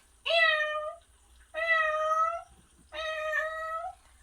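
A mimicry performer imitates a house cat with his voice, giving three drawn-out, close meows separated by short pauses. No other voices or background sound are heard.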